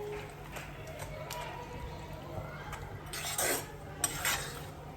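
Jaggery syrup bubbling in a pan while being stirred, soft scraping and faint clinks of a spoon against the pan over a quiet simmer, with a few louder scrapes toward the end.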